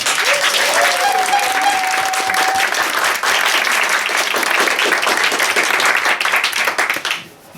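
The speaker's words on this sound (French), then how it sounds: "On applaudit le public." A theatre audience applauds loudly and steadily for several seconds after a stage show, the clapping dense and sustained before tapering off at the end.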